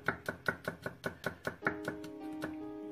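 Knife chopping garlic on a cutting board, a quick run of about a dozen crisp, evenly spaced taps, close and fairly loud, fading into a softer steady background toward the end.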